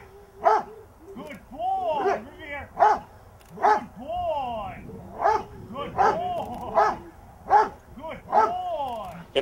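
Personal protection dogs barking during training drills, a series of loud, sharp barks in a regular rhythm, close by, with whining and voices mixed in between them.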